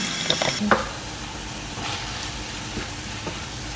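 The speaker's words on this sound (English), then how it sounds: "So right now I'm gonna fry my spinach." Spinach fries in a pan with salt and onions, a soft continuous sizzle with a few clinks and stirring scrapes near the start.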